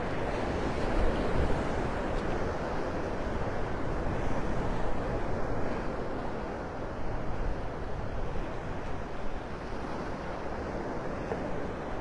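Wind rushes steadily across the beach at Pelican Bay in North Naples, Florida, a constant broadband roar buffeting the microphone, with the low wash of surf blended underneath and no one talking.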